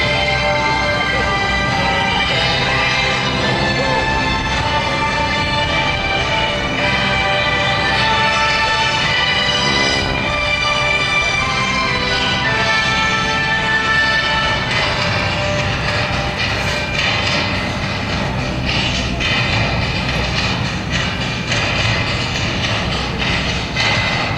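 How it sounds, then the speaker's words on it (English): GEICO Skytypers propeller aircraft taxi in formation at a Blue Angels homecoming airshow, a loud steady engine drone that holds without break throughout. "the Skytypers will taxi to their parking spots in formation"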